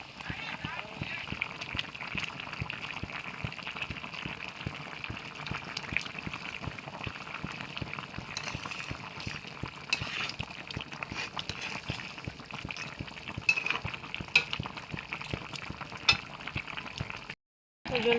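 A rohu fish curry boils steadily in a pan, a soft continuous bubbling and crackle that stays close and even throughout before cutting off briefly near the end.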